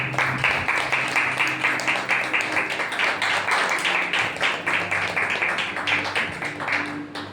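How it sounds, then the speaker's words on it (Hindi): A Sunday church congregation claps in unison to praise God, a loud rhythmic beat of hand claps repeating at a steady pace for several seconds over a faint tonal hum. "एक जोरदार परमेश्वर के लिए तालियां बजाएं।"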